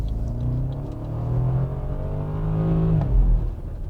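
A BMW 750Li with about 100,000 miles accelerating hard, the engine note rising in pitch over a few seconds, then a brief gear-change dip and a deeper rumble, heard close from inside the car.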